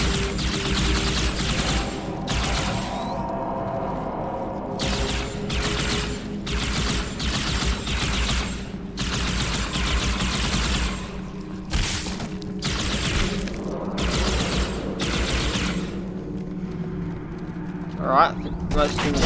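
Rapid bursts of plasma rifle fire in Halo 2's High Charity mission, with repeated broadband volleys stopping and starting over steady game ambience, plus a sharp burst near the end.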